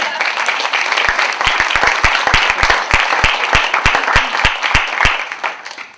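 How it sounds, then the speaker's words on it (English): Audience applause for a panelist at an alumni panel, loud, sustained clapping from a crowd with several sharp, distinct close claps standing out, tapering off at the end. "let's get some applause going."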